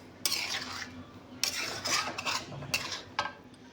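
Green chicken masala gravy being ladled from a pot into a serving vessel: a few sharp metallic clinks and scrapes of a spoon against metal cookware, with soft wet sloshing between them, close by and quiet.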